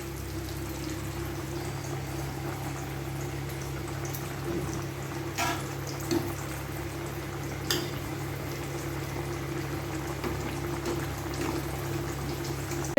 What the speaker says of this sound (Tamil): இந்த பக்கம் கிரேவியும் நல்லா ரெடி ஆகிட்டு கொதிச்சிட்ருக்கு